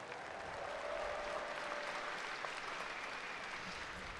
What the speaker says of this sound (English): How about one more round of applause for our fitness athletes?